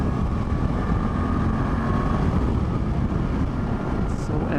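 2024 Suzuki GSX-8S motorcycle ridden on the road, a steady dense engine drone mixed with heavy wind rush, loud and continuous for the whole stretch.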